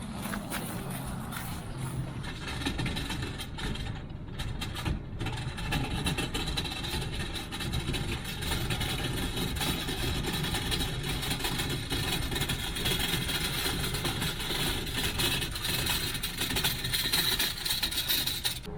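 A low motor runs steadily for the whole stretch, a small motorized trailer dolly humming close by as it pulls a boat, with faint shuffling steps and rattles mixed in.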